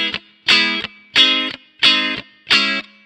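Electric guitar played through a Line 6 Firehawk preset, five loud, evenly spaced strummed chords that ring briefly and cut off, alone with no talk.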